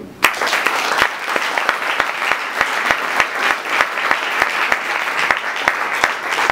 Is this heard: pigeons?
no